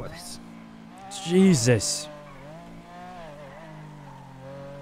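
A supercar in GTA driving with a sustained engine drone that shifts pitch, a sharp loud rev or screech burst partway through, and someone speaking briefly over it.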